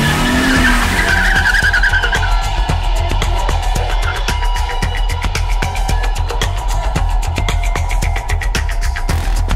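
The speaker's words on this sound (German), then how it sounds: "Derek McGillian hetzte sein Fahrzeug wie ein Besessener die steile Landstraße hinauf, die zu den Cliffs of Moher führte." A car races hard up a steep country road toward the Cliffs of Moher in an audio drama, engine loud and close throughout with a dense, rapid throbbing pulse and a brief tire-like squeal at the start.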